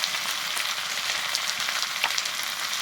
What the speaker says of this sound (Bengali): এবার সব কিছুকে খুব ভালো করে কষিয়ে নেবো